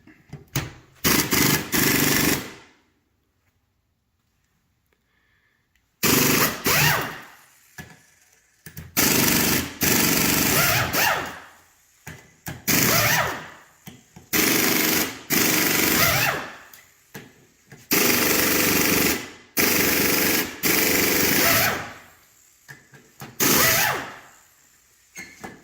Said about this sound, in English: We'll use an air tool to pop out the Torx and the Allen